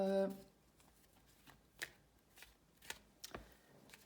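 Tarot cards being shuffled by hand: a few soft, brief riffling bursts spaced about half a second apart, quiet and close, after a short opening tone.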